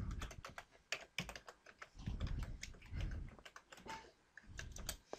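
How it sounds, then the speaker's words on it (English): Keys clatter in quick, uneven bursts as a username and password are typed on a computer keyboard, close and fairly quiet with no talk. "pretty much you're just going to type in your username and password."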